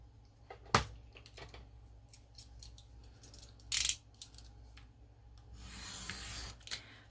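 Paper cut down for a craft project: a few crisp scissor snips and soft rubbing and rustling close by, quiet overall, ending in a longer papery scrape.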